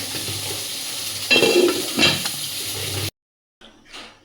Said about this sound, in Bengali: অল্প একটু পানি দিয়ে দিই, দিয়ে ভালোভাবে কষাবো। ফুলকপির তরকারিটা একটু কষিয়ে নেব ভালোভাবে।